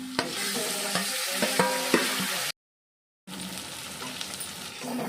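Fish meat cooks in a pan with fried onions under a continuous sizzle, broken by repeated stirring scrapes and taps; the sound cuts out briefly midway, then the frying resumes.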